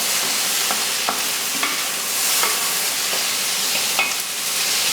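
Vegetables, including onions and carrots, stirred and sizzling over really high heat in a frying pan for Caribbean steamed fish, a steady loud fry with repeated scraping strokes of the utensil.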